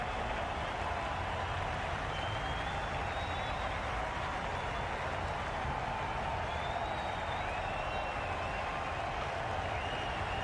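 Dense, steady crowd applause and cheering from a stadium audience in the cricket video game Cricket 22, filling the whole stretch at an even level with no talk over it.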